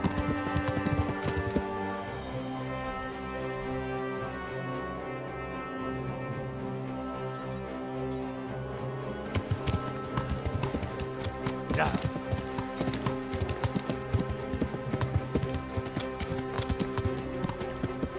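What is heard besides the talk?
horse trotting hooves in video game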